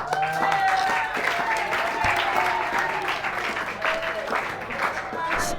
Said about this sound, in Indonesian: Untuk regu A, beri tepuk tangannya.